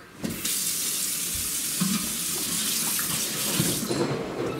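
Cooked fresh noodles and their hot water are poured through a small strainer into a sink, making a steady, close rush of splashing water for several seconds with no talking.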